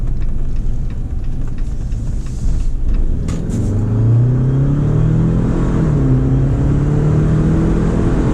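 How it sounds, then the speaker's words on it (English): A 2023 Jeep Wrangler 4xe Sahara plug-in hybrid accelerating from inside the cabin: a low engine rumble climbs steadily in pitch for several seconds after a brief quieter stretch, loud and continuous with no talking. "give it another quick acceleration here once we get around this corner"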